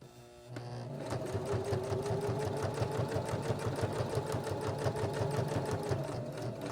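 A sewing machine stitches through the bulky corner of a fabric glasses case, starting after a brief pause and then running as a fast, even, continuous mechanical chatter, close and fairly loud with no talk.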